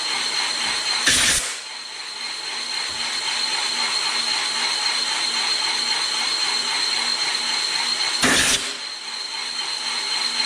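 A Van Norman 777 boring bar cuts steadily through an engine cylinder, a continuous machine hum with a faint whine, broken by two short loud bursts, likely compressed air blowing chips out.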